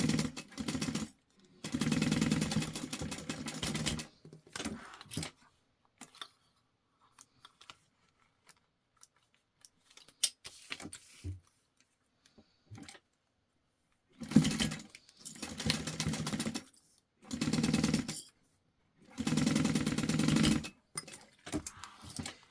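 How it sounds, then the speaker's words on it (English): A sewing machine stitches the sides of a jelly vinyl pouch in several short, fast-running bursts separated by quiet pauses, close and fairly loud with no talking. "You're going to sew the sides on."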